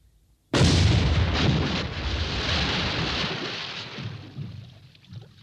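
An AVRE armoured engineer vehicle's demolition gun fires a single heavy, booming shot, a sudden loud blast that rumbles and slowly fades over several seconds.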